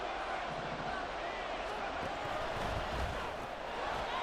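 Stadium crowd noise from the video game Madden NFL 24 keeps up a dense, steady roar of cheering throughout, broad and even with no break.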